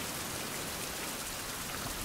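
Steady rain falls in a survival video game, a dense, even hiss of drops that holds without pause at low volume.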